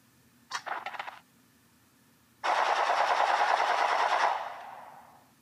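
Rifle gunfire in a first-person shooter video game: a short rattling burst of shots, then after a pause a longer, loud sustained automatic burst of about two seconds that fades out.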